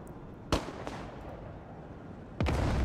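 A Grad rocket artillery volley in WARNO, heard as two sharp booming bursts about two seconds apart against a noisy battlefield background, the second leading into sustained rumbling, no voices.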